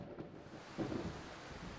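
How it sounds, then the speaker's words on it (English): Thunder rolls with a low rumble over steady rain patter in a video game's stormy night scene, a dense continuous wash with a slight swell partway through. "A boom of thunder jolted you from your sleep, and you could hear the gentle patter of the rain against the window"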